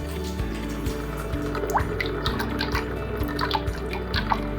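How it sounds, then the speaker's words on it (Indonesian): Running water rinses a histology slide under the tap, a steady close splashing flow with scattered drips and trickles throughout, no talk over it. "Kemudian diambil dan cuci menggunakan air mengalir."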